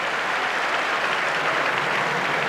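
A large tennis crowd at the 1978 US Open final applauds steadily, a dense and even wash of clapping held at full volume from start to finish, with no voices standing out.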